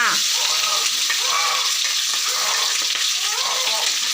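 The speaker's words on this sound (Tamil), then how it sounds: "வெங்காயம் வதங்குற மாதிரி வதக்கு" Onions sautéing in a pan, a loud, continuous close-up sizzle with steady hissing and faint stirring throughout.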